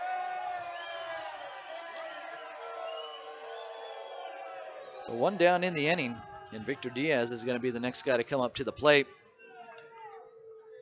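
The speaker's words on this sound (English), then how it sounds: "you could hear the boos in the background" Crowd booing at a minor league baseball game between the Grand Prairie AirHogs and Laredo Lemurs, a sustained droning chorus that sits behind a commentator and then continues faintly under his talk.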